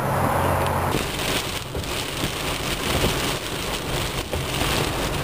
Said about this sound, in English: We're finally getting some rain!